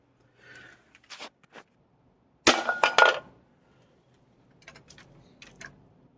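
A Weihrauch HW80 .25 air rifle fires a pellet at a can, giving one sudden sharp crack with brief metallic ringing, close by, with quieter clicks and handling noises before and after.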